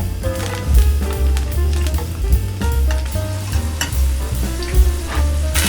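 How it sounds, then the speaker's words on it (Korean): Garlic frying in oil in a pan for braised tofu, a busy steady sizzle with crackling bursts and occasional clinks of a utensil stirring, close and alone with no talk. "팬에 오일 두르고 마늘을 넣어 노릇하게 구워주세요."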